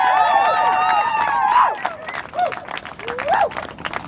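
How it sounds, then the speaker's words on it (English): A rally crowd cheers and applauds, with loud sustained whoops and shouted voices over steady clapping that then thins into scattered cheers and calls. "give yourselves a really big round of applause for being here today"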